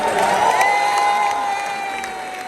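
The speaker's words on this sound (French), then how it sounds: "Maximum d'applaudissements pour Madame Chavana" Audience at a comedy show at the Casino de Paris erupting in loud applause, cheers and whoops, a dense crowd roar that gradually eases over a couple of seconds.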